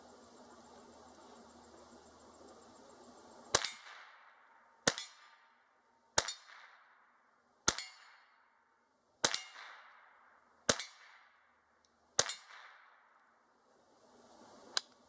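A Winchester Model 190 .22 rifle fires seven evenly spaced shots, each a sharp crack followed by a ringing metallic ping from a steel target, over a faint engine-like hum.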